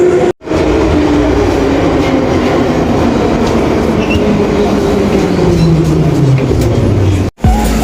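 A Warsaw metro M1 train runs loudly on its rails, a constant heavy rumble with rising and falling wheel whine, heard from inside the car with brief gaps.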